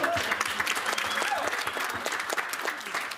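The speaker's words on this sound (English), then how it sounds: "let's give a round of applause" Wedding guests give a round of applause at Steve and Kathleen's wedding, with many hands clapping in a brisk, sustained patter that stays close and even from start to finish.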